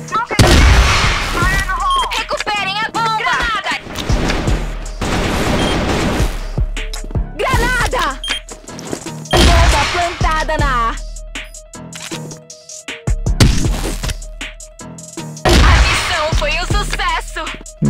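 Rapid gunfire and impact bursts from a Portuguese-language online shooter game, firing in repeated short volleys under frequent excited talk from players over a constant background tone.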